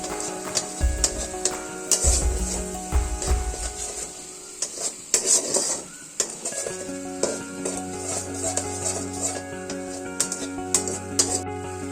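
Coriander, cumin and spice paste is stirred in hot oil for a vegetarian soybean curry, with intermittent scraping and clattering bursts over a soft sizzle. Sustained musical tones run beneath the whole time, without speech.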